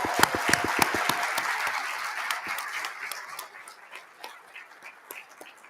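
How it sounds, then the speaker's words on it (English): An audience applauds workshop presenters at a diocesan convention, starting as crisp, loud individual claps close by and gradually thinning and fading over a few seconds. "can I get a round of applause for our workshop presenters"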